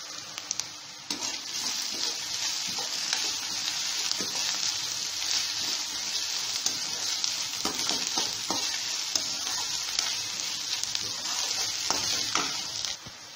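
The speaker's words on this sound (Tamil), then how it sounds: "நான் இஞ்சி பூண்டு நல்லா தட்டி வச்சுருக்கேன், அதை இதில் ஆட் பண்ணிக்கலாம். ஆட் பண்ணி நல்லா கிண்டிக்கலாம்." Onions frying with crushed ginger and garlic paste in a pan for chana masala, stirred with steady sizzling and repeated scraping strokes of a spoon, close and continuous.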